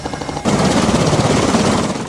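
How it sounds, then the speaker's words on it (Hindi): A loud helicopter thrums close by, its rotor chop and engine roar suddenly intensifying and holding steady. "मैं अभी हेलीकॉप्टर तेज कर रहा हूँ।"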